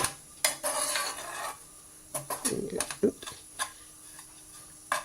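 Oats are dry-roasted and stirred in a pan, with bursts of scraping and clattering spoon strokes alternating with quieter pauses and sharp taps, up close.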